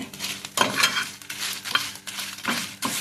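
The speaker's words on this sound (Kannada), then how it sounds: "ಸ್ವಲ್ಪ ಮೀಡಿಯಮ್ ಉರಿ ಉರಿಯಲ್ಲೇ ಮಾಡಬೇಕು ಕರಿಚಿ ಹೋಗಬಾರ್ದು ಚೆನ್ನಾಗಿ ಫ್ರೈ ಆದ್ರೇ ತುಂಬ ಚೆನ್ನಾಗಿ ಟೇಸ್ಟ್ ಆಗಿರುತ್ತೆ" Chillies frying in a pan over a medium flame, a steady sizzle broken by the scrape and clink of a utensil stirring them every second or so, close and fairly loud with no voices.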